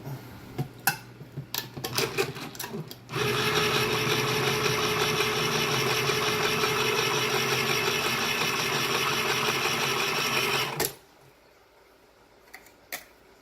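A few clicks and taps, then a long steady mechanical whir for about eight seconds, like an electric can opener running, ending abruptly, as a can boiled in a pot of water to make caramel is opened.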